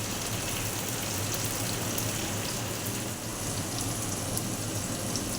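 Onions, chopped tomato and spices frying in hot oil for a Bengali pabda fish curry, a steady close sizzle that hisses continuously without pause.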